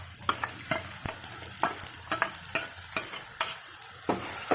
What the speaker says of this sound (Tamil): இது எண்ணெயிலே கொஞ்சம் நல்லா வதக்கிங்க